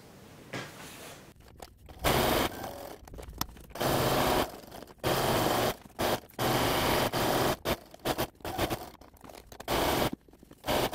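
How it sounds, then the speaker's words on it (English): A sewing machine stitching around fabric edges, running in repeated loud bursts of a second or so with brief pauses and handling noise between them, close by and with no talk. "we're going to take it to the sewing machine, sew around all the edges"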